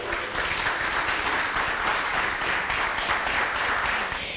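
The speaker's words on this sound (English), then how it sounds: "And let's give Nikki one last round of applause, everyone." Sustained applause from an audience at a social work appreciation talk event fills the room, a dense steady wash of many hands clapping at even loudness throughout, with no speech over it.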